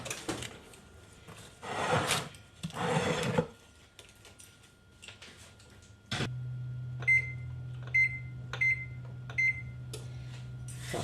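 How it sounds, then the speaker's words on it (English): Quinoa flatbread goes into a kitchen oven with rustling and handling noises, then a door clunks shut and a low steady hum starts, followed by a series of short electronic beeps. "I'm putting this in the oven for 15 minutes"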